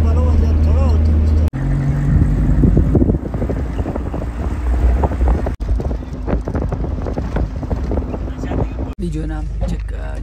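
A vehicle pulls away on a mountain road near Satpara in Gilgit-Baltistan, between Skardu and Gultari. A low engine drone runs under strong wind buffeting and steady rattling while people talk over it.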